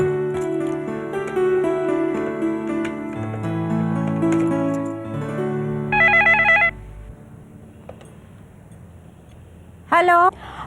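After a sustained tonal passage, a telephone rings in two short trilling bursts a few seconds apart.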